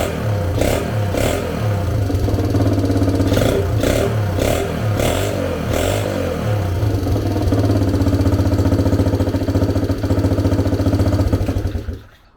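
Honda XR70 motorcycle fitted with an 88cc big bore kit, running after a rebuild: a steady mid-pitched engine idle with a few sharp rev blips early on, then settling before cutting off at the end.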